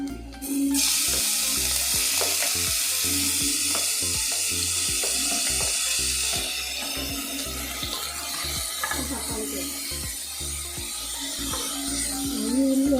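Steady sizzling and hissing in a pan while onions sauté for a Kerala dal palak curry, with regular soft knocks and scrapes of stirring throughout, close and even.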